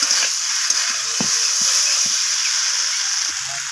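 Soybean and cauliflower curry stir-fried in a pan, a steady hiss of frying running throughout with a few soft scrapes and knocks of stirring close by.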